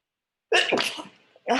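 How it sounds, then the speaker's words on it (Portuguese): A single close, loud sneeze bursts out after brief silence, followed by a short sharp breath or second expulsion. "Peraí, eu preciso espirrar."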